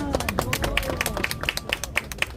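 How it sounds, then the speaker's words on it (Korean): Applause from a small group at an outdoor press conference in front of the Supreme Prosecutors' Office, a run of sharp, fairly evenly spaced claps heard up close over faint background murmur. "박수."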